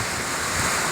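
Strong typhoon wind roaring constantly with heavy rain, a loud broadband rush buffeting the microphone, with a steady wash of rain, during a landfall in Bicol, Philippines.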